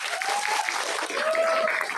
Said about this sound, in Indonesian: Beri tepuk tangan pengabdian.